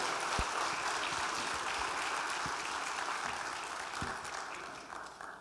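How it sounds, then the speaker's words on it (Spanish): A church congregation applauds together in a steady, dense wash of clapping that fills the space, holding loud and even before thinning slightly toward the end. "¿Cuántos pueden darle un fuerte aplauso al Señor por su misericordia y gracia?"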